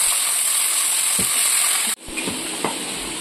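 Bitter gourd and teasel gourd slices fry in a home kitchen pan, a steady broadband sizzle with a few soft stirring knocks, briefly cut off near the middle then resuming close and loud.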